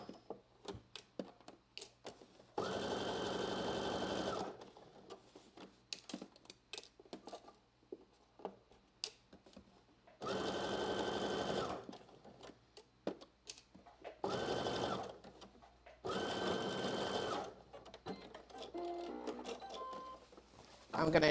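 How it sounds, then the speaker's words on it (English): A domestic sewing machine runs in several short bursts, back stitching and then sewing a seam, its fast steady whir starting and stopping between quieter handling clicks, with someone talking in the pauses. "I'm going to back stitch. And then sew all the way up."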